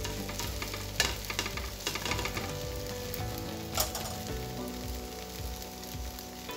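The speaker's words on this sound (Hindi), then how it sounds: "रैप एक साइड से सिक गया है, इसकी साइड चेंज करेंगे" An egg roll wrap sizzles and fries steadily in a hot pan, a continuous close crackle broken by a few louder pops and stirring clicks, with no voices.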